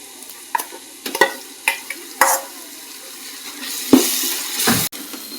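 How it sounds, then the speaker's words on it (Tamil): Browned onions cooking in a pan with ginger and garlic for Sunday country-chicken biryani: a soft continuous sizzle under a series of sharp spoon stirs and scrapes, close and irregularly spaced, with no talking. "இந்த அளவுக்கு ப்ரௌன் கலராக ஆகிற வரைக்கும் நல்லா வதக்கிட்டு இப்போ வந்து இஞ்சி பூண்டு போட்டுக்கலாம்."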